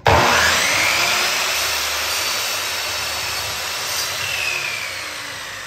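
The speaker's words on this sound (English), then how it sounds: "Actually used the miter saw." A miter saw cuts through wood with one sustained, loud whining rip that starts abruptly and slowly tapers over several seconds, with no talking.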